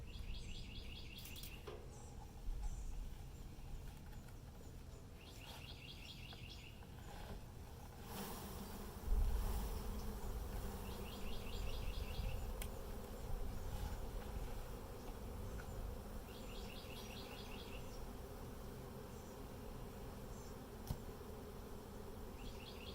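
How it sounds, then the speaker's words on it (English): A steady hum of honeybees buzzing while being shaken into a Flow Hive fills the air, with occasional knocks and a few distant bird chirps in the background. "Get all the rest of these bees out of here."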